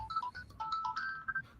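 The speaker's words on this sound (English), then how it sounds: "That's my phone." A mobile phone ringtone plays a bright, melodic electronic tune in quick repeating notes, fairly close, with a low background hum and no talk during the ring.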